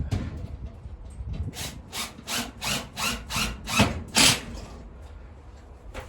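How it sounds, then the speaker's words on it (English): A power drill whirs in a run of short bursts, about eight pulses close by, ending with a louder final burst, drilling holes to secure greenhouse panels. "I'm on the last drill hole"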